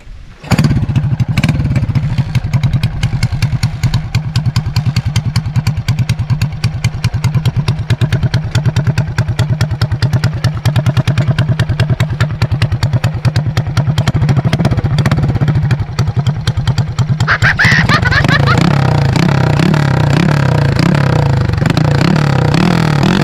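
A motorcycle engine fitted with a cooking pot as its exhaust tip runs loudly and steadily up close, with a rough, rattling exhaust note that grows harsher and revs higher near the end.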